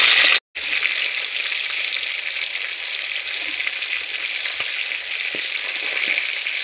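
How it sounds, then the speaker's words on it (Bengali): Steady close-up sizzle of chicken pieces frying in hot oil for restaurant-style doi chicken, a continuous crackling hiss with a few small pops, no voices. "এরকমভাবে আমি সমস্ত চিকেনগুলোকে ভেজে নিচ্ছি।"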